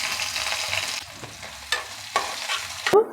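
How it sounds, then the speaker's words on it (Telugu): Mustard seeds, cumin, fenugreek, garlic, a dried red chilli and onions crackle in hot oil as a tempering for Madras sambar, a steady broadband sizzle with a few sharp pops and spoon clinks toward the end, no talking. "ఇప్పుడు తెరమాత పెట్టుకుంటున్నాం."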